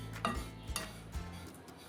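Grated coconut being dry-roasted in a pan for coconut-gum laddoos, with a few scattered metal scrapes and clinks as a spoon stirs it, close and fairly quiet with no sizzle.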